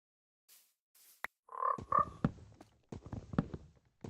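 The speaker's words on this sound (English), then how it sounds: "Oh, there's frogs up there." Frogs croak in a block-building survival video game, a few short throaty calls in quick succession at moderate volume, followed by footsteps and small clicking game sounds.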